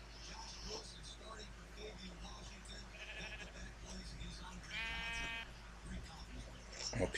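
Sheep in the Minecraft video game give a couple of bleats, including a clear wavering one midway, over steady game background noise with a low hum.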